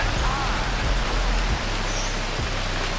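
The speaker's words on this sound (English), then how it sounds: "Was it supposed to be a break in there for some rain?" Steady rain patters in a dense, even hiss throughout, with a low rumble underneath and no voices.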